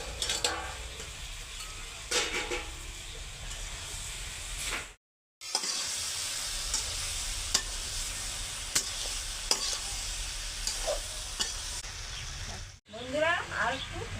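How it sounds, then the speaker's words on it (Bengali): Mixed winter vegetable curry sizzling in a pan while being stirred, with scraping and clinks of the spoon over a constant hiss, a short silent gap midway. "বন্ধুরা এখন একটু লাড়ে চেড়ে দিই।"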